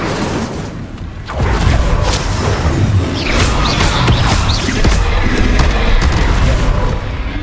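An Incendio fire spell cast in the video game Hogwarts Legacy erupts as a loud booming whoosh and crackling roar that swells after a brief lead-in and sustains, with crashing impacts layered through the blast.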